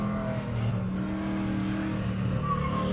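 A C10 pickup truck running hard on an autocross course, its engine holding a loud, steady revving drone with slight pitch shifts throughout, no voices.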